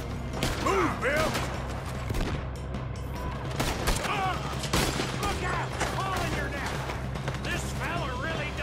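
Repeated gunshots ring out in a Red Dead Redemption 2 shootout, a string of sharp cracks spread across the scene, with voices talking over and between the shots.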